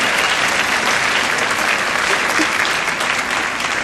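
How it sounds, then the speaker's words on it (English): Sustained audience applause from a large crowd of faculty at an academic event, dense and steady clapping that fills the room for nearly four seconds, close and loud with no talk over it. "Give yourselves a round of applause."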